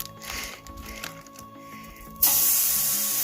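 Bacon strips land on a smoking-hot Blackstone griddle at a campsite, setting off a sudden loud, steady sizzle that holds on after a quieter stretch of background sound.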